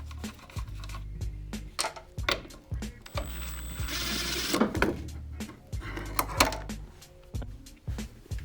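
A hand ratchet works loose suspension bolts on a Toyota Cressida, giving a string of sharp, close clicks in quick bursts with pauses between, over a low steady background hum.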